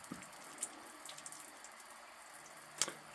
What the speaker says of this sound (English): You just point this diversion valve downward, and you can turn this on, and the cold water comes out of the top, just like that.